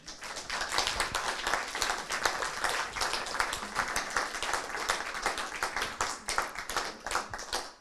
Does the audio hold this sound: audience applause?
yes